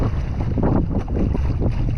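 Small sailboat pushing through wind and waves in open water, a dense, steady rush of wind buffeting the microphone with sloshing water beneath, loud and close throughout.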